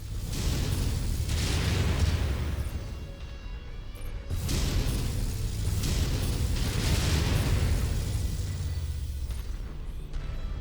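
Missile impacts slamming into a mech in MechWarrior 5: Mercenaries, a run of heavy rumbling booms and blasts with bursts of noise, loud and close, no talk.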